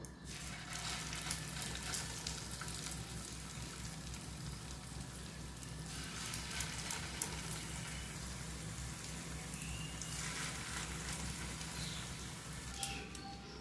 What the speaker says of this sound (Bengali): বাদ বাকি যেটা আছে ওইটা আমি একই পদ্ধতিতে ভেজে নেব